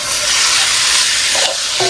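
Pork sautés with garlic and onion in a hot pan, filling the air with a loud, continuous, close-up sizzle and hiss, with a brief stirring shuffle near the end.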